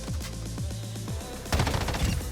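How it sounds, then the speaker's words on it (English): Assault rifle reloading and then firing on a Call of Duty DMZ firing range. Mechanical reload clicks come first, then a rapid, loud burst of automatic gunfire fills the second half. "let me go ahead and reload here"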